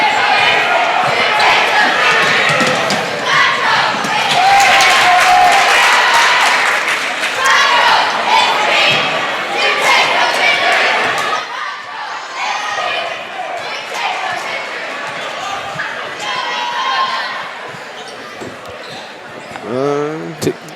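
Crowd noise at a high school boys basketball game, Hedgesville versus Spring Mills, a loud steady gym roar with ball bounces and cheers, with people talking nearby throughout.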